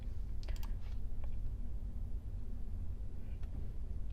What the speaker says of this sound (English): So let me just click into one of them.